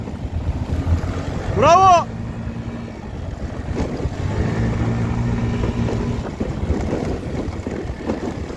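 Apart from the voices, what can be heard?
RKS Azure 50 Pro motorbike engine while riding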